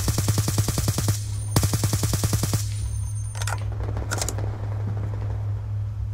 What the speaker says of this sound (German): Da ist ja das Nachladen, ne?